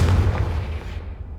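A Confringo blasting spell goes off in Hogwarts Legacy, one booming explosion that is loud at first and then rumbles and decays over a second and a half, with no voices.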